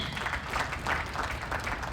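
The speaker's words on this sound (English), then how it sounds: "Give it a round of applause again." Brief applause at a community convention held in a hotel-casino venue, a soft, continuous wash of clapping heard from a distance for just under two seconds.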